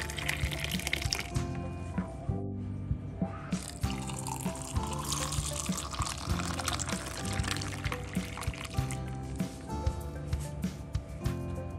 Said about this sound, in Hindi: अब जो जूस पीस के रखा है वो इसमें डाल दूंगी।